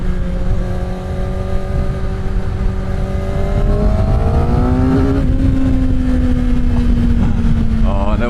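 A Kawasaki ZX-6R supersport motorcycle engine revs hard, its loud, close whine climbing in pitch up to about 9,000 RPM and holding high.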